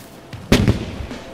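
A cannon firing sound effect: a single sharp, heavy boom that dies away in a short rumbling tail over quiet background noise.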